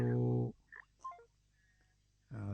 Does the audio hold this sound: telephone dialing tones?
yes